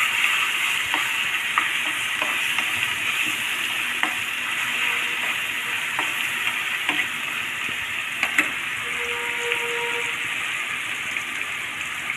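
Chutney ingredients sautéing in sesame oil in a pan: a constant loud sizzling hiss with scattered small ticks and clicks of spatters and stirring, close up and without speech throughout.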